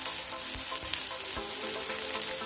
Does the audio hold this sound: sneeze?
no